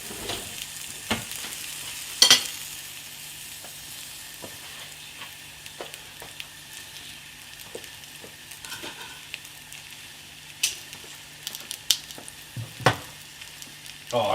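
Beef quarter pounder burger frying in a buttered pan, a quiet steady sizzle with scattered pops and crackles, heard close and without talk.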